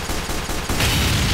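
Gunfire in TF2 inside Garry's Mod: a dense burst of rapid shots that grows louder and harsher midway, continuous and close with no pauses.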